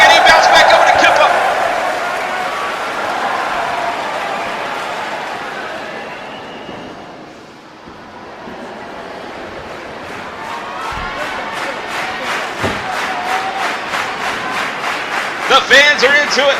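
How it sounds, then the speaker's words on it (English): An arena crowd in a WWE 2K wrestling video game holds a sustained roar that dips in the middle and then builds again with claps and cheers. Loud commentary talk is heard over the crowd. "You can hear the crowd applauding these two men."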